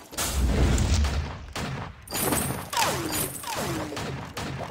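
Rapid gunfire in the video game Vainglory plays as loud, overlapping bursts of shots with booming impacts and whooshing projectile sweeps in continuous succession.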